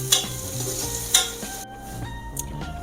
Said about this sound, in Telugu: సో పసుపు వేసాక ఇంకాసేపు ఫ్రై అవ్వనిద్దాం